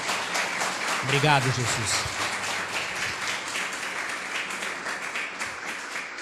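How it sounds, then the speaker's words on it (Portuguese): A church congregation applauds during a worship service, with steady clapping under a voice speaking and a burst of tonal sound early on. "Dê um aplauso à palavra do Senhor."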